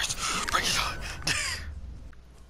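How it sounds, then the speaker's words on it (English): A character in the game Overwatch, running with a cigar in his mouth, breathing heavily in three or four rough, gasping bursts that fade toward the end. "you hear him breathing so heavy?"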